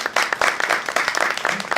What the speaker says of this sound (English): So let's have a round of applause for our panelists.